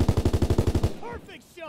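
A rapid burst of about ten close gunshots fires in the World War II shooter Call of Duty: WWII, followed by a quieter tail of faint game sounds.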